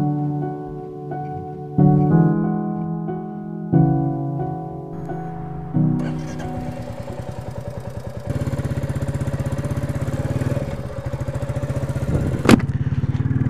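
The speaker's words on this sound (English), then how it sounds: "hope you'll enjoy this wee run on the Enfield." A Royal Enfield Classic 350 motorcycle runs steadily in Fife, its engine note rising and settling through a few gear changes with a loud, close thump and a brief sharp knock near the end.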